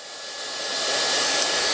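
A hairdryer blows hot air over a fringe during styling, a steady close whooshing hiss that swells slightly louder over the first second and then holds constant with no talking.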